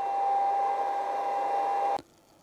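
A welding helmet's powered air supply unit blows a steady, even rush of air with a faint constant whine, then cuts off abruptly near the end, leaving near silence.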